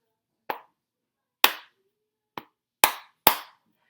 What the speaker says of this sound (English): So it goes pat, clap, pat, clap, clap.